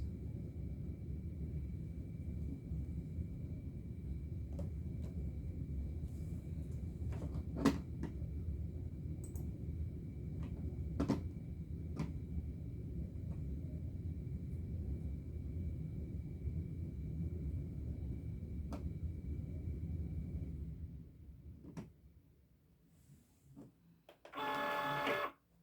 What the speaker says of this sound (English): And that's another reason why I like the Cricut Maker, because it's so fast.